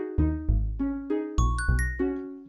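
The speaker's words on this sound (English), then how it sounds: "whether it sounded better with the bell sound like this one" Minecraft note blocks set to the bell sound play a bright melody, about eight clear chiming notes in steady succession, each ringing out and decaying, loud and close with no other sound.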